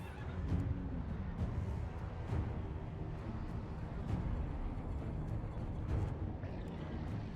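Horses neigh and whinny in a strategy video game, several short whinnies at irregular intervals over a busy, steady background of battle ambience, fairly faint.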